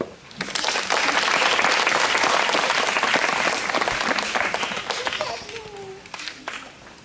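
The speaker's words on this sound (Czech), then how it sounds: "Prosím potlesk." An audience at a cabaret performance breaks into loud, dense applause that holds for several seconds and then thins out, with a few faint voices near the end.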